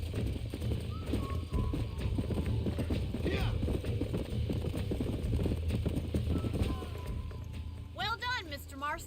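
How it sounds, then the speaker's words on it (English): Horse hooves clip-clop steadily through a Red Dead Redemption scene, a continuous busy trotting rhythm under ambient game noise and background voices, with a brief whinny-like sound near the end. "These are fine horses."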